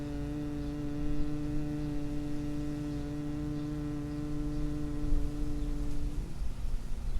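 A person hums through the throat, imitating a bumblebee, in a steady, resonant low drone held for about six seconds before fading into a quiet breath.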